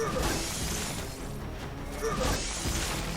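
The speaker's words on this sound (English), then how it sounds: "I have to smash the crystals." In Minecraft, crystals are smashed with two bright shattering crashes, one near the start and a louder one past the midpoint, over dense game noise and a spoken voice.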